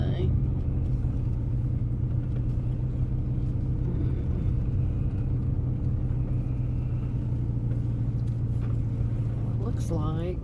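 A car's engine rumbles low and steady up close as the vehicle pulls up and comes to a stop, its hum holding constant throughout with no sharp changes.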